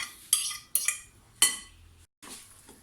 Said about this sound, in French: Allez, je mets tout et je mélange.